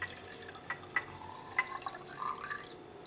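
A liquid is poured into a glass laboratory flask of ethanol, making faint trickling, dripping and glassy clinks in short separate bursts, quiet and close, with no voices.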